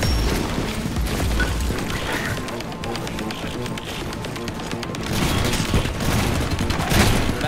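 Rapid gunfire from a Garry's Mod HL2RP video game session: dense bursts of shots and clattering impacts, loudest near the end, over continuous background din.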